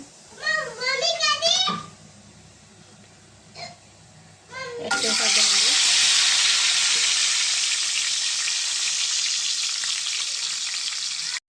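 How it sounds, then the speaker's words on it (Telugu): Eggs dropped into hot oil with turmeric in a pan burst into a loud, steady close sizzle that lasts several seconds, after a voice speaks briefly at the start. "ఎగ్స్ ఫ్రై చేసుకుందామండి ఆయిల్ వేసానండి నాలుగు స్పూన్లు"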